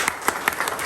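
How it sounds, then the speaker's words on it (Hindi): Applause from an audience at a disability awareness program, a continuous wash of clapping with a few sharper claps rising out of it at a steady, moderately close level. "आपके लिए जोरदार ताली भाई।"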